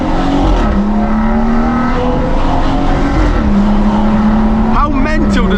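Stage 2+ tuned BMW M140i in comfort mode, engine and exhaust droning loudly from inside the cabin as it accelerates through gears, with a shift change near the end and a voice speaking over it.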